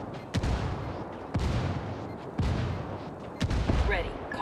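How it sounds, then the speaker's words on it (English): Heavy gunfire and indirect artillery fire in the tactical shooter Ghost Recon Wildlands, with four loud booming blasts at roughly one-second intervals over a continuous rumbling battle din. "I called the rebels for some indirect fire."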